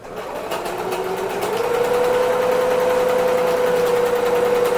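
A sewing machine stitches shirring lines on thrifted clothing, running in a loud, steady, rapid whir that speeds up after a slower start and carries on unbroken.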